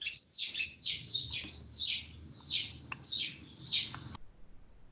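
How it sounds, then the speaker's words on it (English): Birds chirping in the background of a live online webinar: a rapid run of high, thin tweets repeating steadily for about four seconds at low level, with no talk, then silence. "We are still hearing birds at the back."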